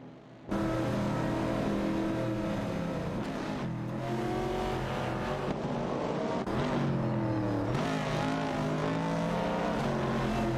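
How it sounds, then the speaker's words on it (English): AI-driven race cars, including a Chevrolet Camaro and a Mercury, roar past in a racing video game, with loud sustained engines whose pitch rises and falls as they sweep by one after another. "Let's enjoy the AI cars zooming by together."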